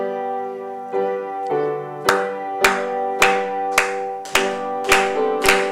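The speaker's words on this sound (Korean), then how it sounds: "우리 함께 힘차게 박수하시면서 찬송 드리겠습니다." A church congregation at a Wednesday prayer service claps in steady unison, sharp regular claps keeping time over the sustained organ or keyboard accompaniment of a hymn.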